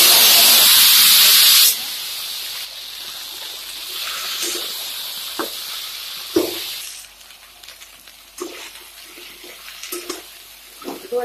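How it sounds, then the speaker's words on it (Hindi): Drumsticks (sahjan) and potato pieces dropped into hot oil for a drumstick vegetable curry, starting as a loud, steady hiss that settles into a quieter sizzle with scattered crackles and pops. "अब हम इसमें डाल देते हैं ये सहजन और आलू।"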